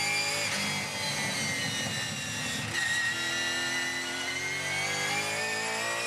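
A car engine held near the top of its rev range while in gear, a loud sustained high-pitched whine with layered harmonics that stays steady for several seconds, with no talking.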